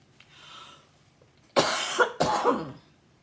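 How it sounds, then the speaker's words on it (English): Two sharp, loud coughs burst out close by, one after another, following a brief faint breathy sound. "Now, this cough still lasts."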